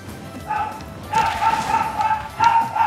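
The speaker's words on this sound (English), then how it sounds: "Oh my god, my dog is barking." A dog barks in several short bursts indoors, one longer run of barking in the middle and another yelp near the end, fairly distant over a low background hum.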